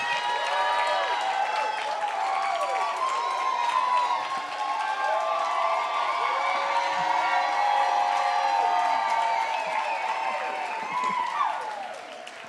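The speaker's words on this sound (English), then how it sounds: "Please give all of our alumni a huge round of applause," A crowd at the UC Berkeley Principal Leadership Institute's 20th anniversary campus celebration applauds alumni with steady clapping laced with loud whoops, shouts and cheers throughout, easing slightly at the close.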